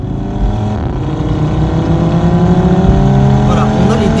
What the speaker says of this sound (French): on a les déflagrations à chaque changement de rapport quand on est en mode dynamique